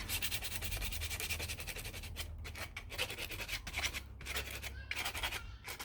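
Very fine sandpaper is rubbed lightly over wood in repeated strokes, a soft continuous scratching that runs throughout and sounds close by.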